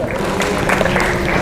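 Dense applause for the imam from a gathering at an adzan and calligraphy session, loud and continuous for a brief moment.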